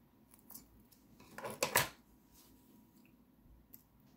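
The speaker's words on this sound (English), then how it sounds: "I'll make a couple of knots before I cut my thread." Scissors snip beading thread after knotting, a few close, quiet crisp metallic snips bunched together in a near-silent room, with no talk.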